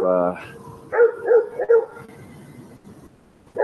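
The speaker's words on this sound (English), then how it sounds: "they have a dog to protect them" A dog kept at a campsite barks in a few short, close yips and woofs, spaced out in quick succession, with a brief further bark at the end against faint background noise.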